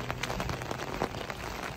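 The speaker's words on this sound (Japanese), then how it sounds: "この雨です。" Heavy rain falling steadily during a camping-car trip in Ibaraki, a dense continuous hiss with faint scattered drop patters, fairly quiet and without talk.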